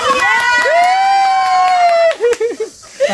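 A crowd in Bandipur cheering loudly, with a long sustained whoop over a mass of voices, then breaking into scattered shouts at close range.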